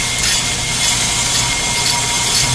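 A brake lathe's blades cut into a brake rotor, making a loud, continuous scraping and grinding hiss that holds steady through the short stretch.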